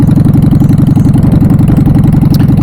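A Honda Shadow motorcycle engine runs steadily at close range, a loud, even, throbbing pulse that holds at a constant idle-like rhythm throughout with no voices.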